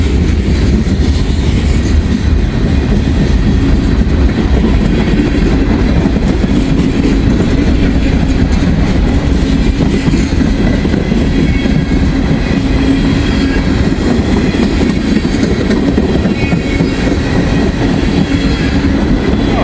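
An intermodal freight train rolls past close by, a loud continuous rumble with rattling wheels and clattering cars throughout, with no voices.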